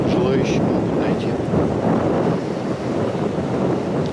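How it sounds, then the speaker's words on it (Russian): Fresh breeze blowing steadily on the rocky Atlantic coast of El Hierro at Tamaduste, a continuous broadband rush like wind buffeting the microphone, with distant surf mixed in and no talk. "Сегодня такой ветерочек свежий"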